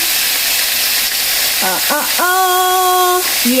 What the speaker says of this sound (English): Do you guys hear me with the sizzling?